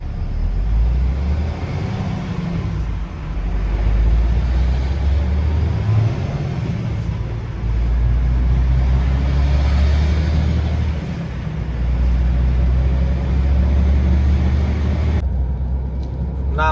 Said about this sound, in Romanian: E bine, vine mașina cu pâine.